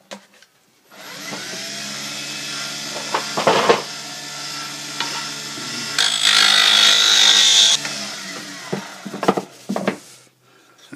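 Sandpaper glued around a dowel spins on a wood lathe, a steady motor whir with a brief sharper grinding stretch mid-way and a few knocks, near and fairly loud.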